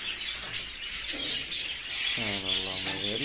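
Pet birds kept in cages chirp in high, quick bursts throughout, while someone talks nearby over them.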